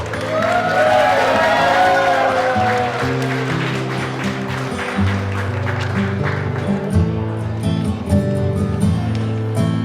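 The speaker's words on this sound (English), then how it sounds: "a round of applause for the lovely and proud mother of the groom" Wedding guests applaud the proud mother of the groom, a steady wash of clapping from a crowd blended with music playing loudly throughout.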